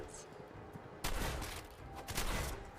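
Rapid gunfire from the video game Fallout 4 erupts loudly after a quieter first second, sustained bursts of shots continuing to the end.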